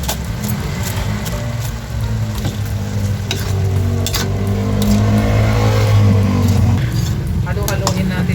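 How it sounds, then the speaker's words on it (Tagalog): Vegetables being stirred in coconut milk in a pot, with loud steady bubbling and simmering sizzle and occasional scraping of the utensil, close and continuous throughout. "Halo-haloin natin guys."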